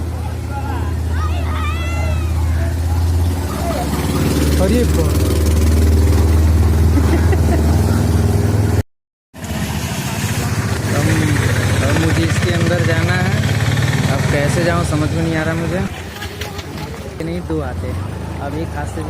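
A scooter engine runs steadily while riding through floodwater in a submerged village, a continuous low rumble with babble of voices nearby, briefly cut out midway before resuming.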